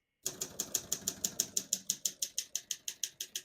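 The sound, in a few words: typing on a 1955 Olympia SM3 portable typewriter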